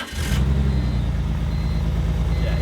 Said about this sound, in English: So let's turn the car back on.